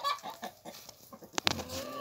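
Chickens cluck softly and close by in a farmyard, short irregular calls with a louder squawk near the end, and no talking.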